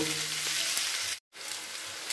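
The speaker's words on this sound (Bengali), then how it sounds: "এটাকে একদম একটু ভালো করে ভেজে নেব।" Bitter gourd, sweet potato and potato sizzle steadily as they fry in a pan. A sharp, brief cutoff into near-silence occurs just past the midpoint before the frying resumes.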